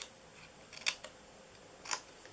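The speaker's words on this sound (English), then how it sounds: "So what we're going to do is cut into the sides here." Scissors snip through the paper sides of a St. Patrick's Day treat box, two short crisp bursts of cutting about a second apart, close and clear in a quiet room.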